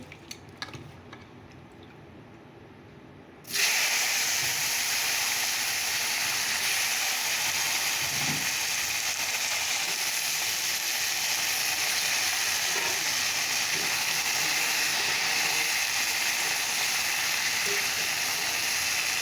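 Chopped potato, eggplant, ridge gourd and tomato hit hot oil with a sudden loud sizzle that then continues as a steady, close, hissing fry, preceded by a few seconds of quieter kitchen sounds.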